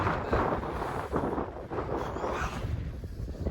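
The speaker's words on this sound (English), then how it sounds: "It's windy here as well, to be honest with you." Wind gusting steadily across a hillside wild camp beside Alcock Tarn in the Lake District, a continuous broadband rush buffeting the microphone with no talk.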